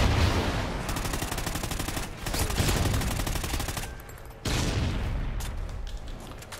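Rapid automatic gunfire from the Honey Badger rifle in Call of Duty: Ghosts, a team deathmatch on the Freight map, with dense loud bursts that briefly break off and then resume.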